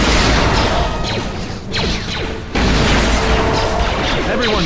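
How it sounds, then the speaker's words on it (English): Grenade blasts in the video game KOTOR II: loud, heavy booms with rumbling crashes fill most of the stretch, with a brief dip between them. "we're gonna keep lobbing grenades until they stop living"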